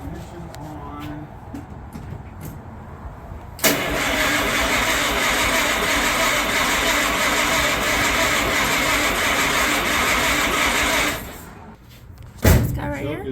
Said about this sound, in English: So now we're going to start up the engine, hopefully, we'll cross our fingers, start up the engine